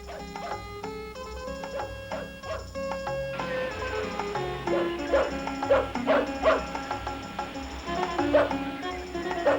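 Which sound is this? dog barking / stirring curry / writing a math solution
dog barking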